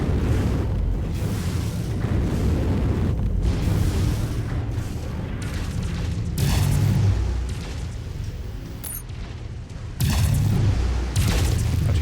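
Missile explosions in a Mech video game: dense, continuous booming rumble and blasts, loud and sustained, with a brief lull and abrupt cutoffs between bursts.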